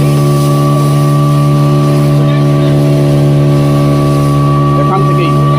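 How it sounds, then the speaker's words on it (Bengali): A tourist motorboat turns off Havelock in the Andamans, heading toward Elephant Beach. Its engine drones loud and steady close by, a constant heavy hum, with voices heard over it. "এখান থেকেই আমাদের বোটটা বাঁক নিয়ে যাবে"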